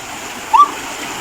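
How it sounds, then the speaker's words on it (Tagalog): Strong floodwater rushes after heavy rain in a rural province, a loud, continuous wash of water with one brief higher splash or call briefly rising above it. "Grabe kusuga sa baha dire ah."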